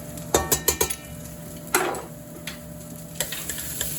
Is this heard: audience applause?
no